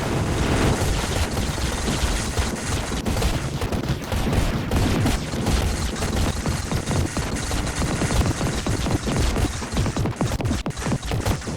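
Turrets firing in the video game Mindustry: a steady, loud barrage of rapid shots and crashing impacts runs without pause throughout.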